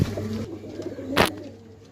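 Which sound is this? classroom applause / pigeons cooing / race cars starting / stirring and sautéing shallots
pigeons cooing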